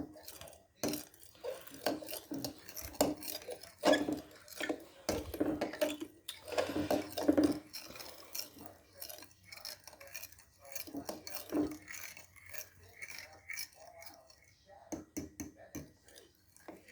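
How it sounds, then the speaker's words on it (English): Spoon stirring a mixture in a bowl, a quiet run of irregular scraping and clinking strokes close by, with soft pauses between bursts. "But I just stir it for a while."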